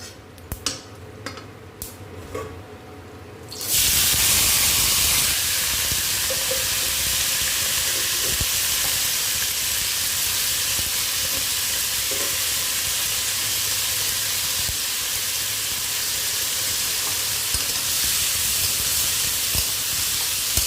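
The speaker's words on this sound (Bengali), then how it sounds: "জিরে ফোড়ন আর শুকনো লঙ্কা।" Cumin seeds and dried red chilies hit hot white cooking oil and burst into a loud, sustained sizzle and crackle that starts suddenly after a few quiet seconds of faint handling noises.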